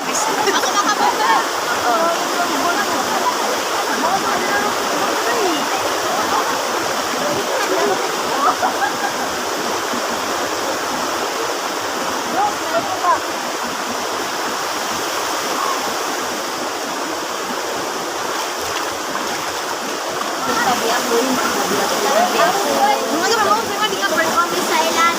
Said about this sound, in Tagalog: yung tulo ng tubig dito, guys. Oh, may tumutulo.